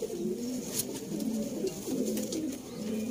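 Sialkoti Shekhan pigeons coo in low, rolling repeated calls, several birds overlapping close by with a steady soft murmur and no talk.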